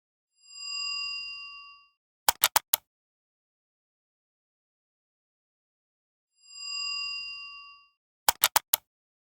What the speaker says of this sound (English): Hit that notification bell so that you're always notified whenever we post a video